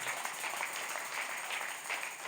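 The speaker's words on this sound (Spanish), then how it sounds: "Le da ese aplauso fuerte" A church congregation at a Sunday service gives steady, dense applause that carries on evenly throughout, somewhat distant and faint.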